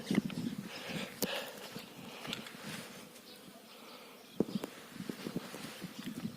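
Bees buzz around a six-frame hive in an apiary, a steady droning hum with intermittent close fly-bys and a few soft knocks, no voices.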